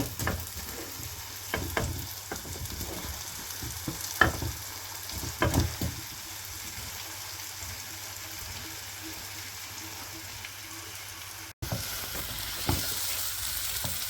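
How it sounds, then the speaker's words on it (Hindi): Chicken tikka frying in bubbling butter and oil for butter chicken: a steady close sizzle with scattered scrapes and clinks of stirring, and a brief cut near the end before the frying resumes. "अब चिकन टिक्का भी डाल के इसको अच्छी तरह से भून लेंगे 4 से 5 मिनट के लिए।"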